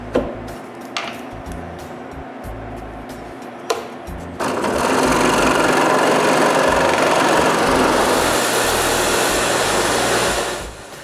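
A scroll saw blade cuts interior windows in a wooden intarsia lighthouse piece. A few faint ticks come first, then a loud, steady, close buzzing whine runs for several seconds before stopping.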